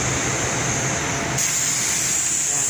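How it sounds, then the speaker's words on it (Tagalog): A spray gun applies guide coat over primer in an auto body workshop, giving a steady loud hiss of air and paint that shifts in tone partway through as the trigger or distance changes. "Medyo ilalayo niyo yung spray gun, huwag niyo masyado itutok."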